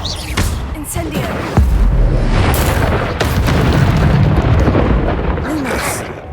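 A fiery Incendio spell blast in the Hogwarts Legacy video game, a loud booming burst of flame that keeps roaring and crackling for several seconds with sharp bursts layered on top.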